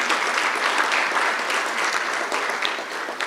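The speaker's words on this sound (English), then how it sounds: "Can we give Prof another round of applause" A conference audience at an energy indaba claps in a steady, dense round of applause, sustained and fairly loud throughout with no voices over it.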